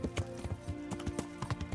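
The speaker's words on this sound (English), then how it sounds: "Oh look, Rapota's horse." Horse hooves clip-clop at a steady walking rhythm in the Kingdom Come: Deliverance game, a moderately close, even series of dull thuds.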